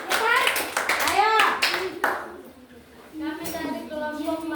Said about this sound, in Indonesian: Tepuk tangan dulu punya orang itu, Mbak.